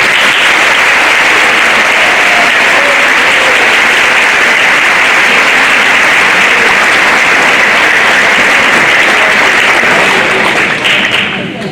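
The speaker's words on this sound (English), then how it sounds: "Let's give a round of applause." A school audience at a class day awards ceremony gives loud, sustained applause, a dense steady roar of many hands clapping close by for several seconds before easing slightly at the end.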